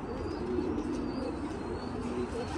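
Pigeons in a home loft holding birds recently brought from Sulaymaniyah give a continuous low cooing murmur, a little louder and closer, with faint chirps over a steady background.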